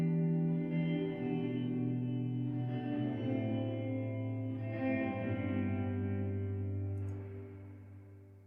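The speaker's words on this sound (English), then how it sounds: "Here it is through the default Ableton Live 9 reverb." Sustained synth chords through Ableton Live 9's default algorithmic reverb, ringing with a smooth, spacious reverb tail that lingers and slowly fades at the end.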